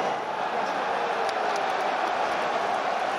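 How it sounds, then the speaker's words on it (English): Stadium crowd roaring at a Fiji v Australia Rugby World Cup 2023 match, a dense sustained roar filling the whole stretch, steady and loud with no distinct voices. "the roar you may have heard is from the crowd"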